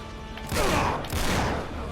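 Gunfire in the video game Uncharted 3 during a caravan fight, loud dense bursts of shots in two close volleys.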